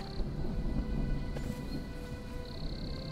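A thunderstorm in the survival game Smalland: steady rain hiss and low rumbling thunder, with a faint high whine at the start and end, no talking.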